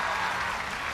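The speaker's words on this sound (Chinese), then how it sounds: "掌声送给四位。" A studio audience at a televised awards gala claps for four guests on stage: a dense, even wash of applause from many hands, loud and sustained through the whole second, with no clear voices.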